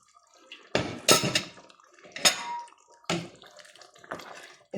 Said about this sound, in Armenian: մի քիչ ջուր ավելացնեմ